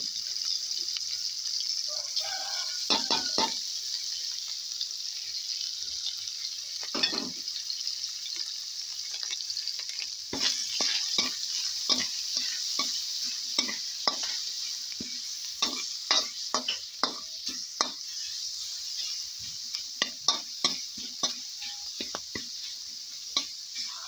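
Chilies stir-fried in a pan for a Thai curry of wolffia and lemon basil leaves, giving a steady bright sizzle with frequent scraping and clacking stirring strokes throughout, close and fairly loud, with no talking.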